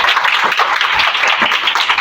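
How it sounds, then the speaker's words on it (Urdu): A congregation claps loudly during an Urdu/Hindi sermon, a dense, steady burst of applause from many hands filling the room throughout with no voices over it. "خدا کے جلال کے لیے اور اپنے لیے زوردار تالیاں بجائیے"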